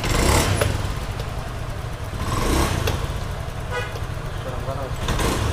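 A Honda Scoopy scooter that stutters and hesitates on initial acceleration has its throttle blipped several times, with engine surges rising and falling under the talk of nearby men.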